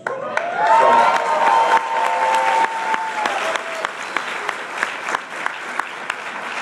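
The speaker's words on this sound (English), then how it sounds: "I want you to remember that applause and your enthusiasm" A Comic Con crowd bursts into loud applause with cheering and whoops for Stan Lee, the clapping sustained and thick, the cheers fading while the clapping carries on.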